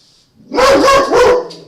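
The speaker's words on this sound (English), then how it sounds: "I apologize for my dog barking." A dog indoors gives two quick, loud barks close by, then falls quiet, with no talk.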